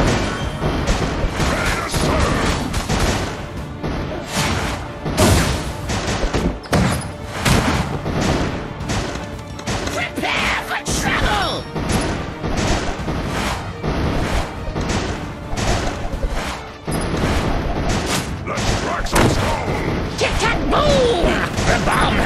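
Video game combat in Kingdom Rush Vengeance: repeated explosions, crashes and thuds pile up densely and loudly throughout, with battle effects mixed in and short voiced lines from the game.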